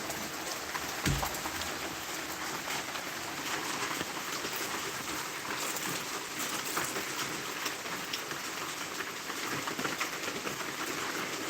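Heavy rain pours steadily on open ground near a field during a hailstorm, a dense, loud, unbroken hiss of drops with a brief low thump early on and no voices.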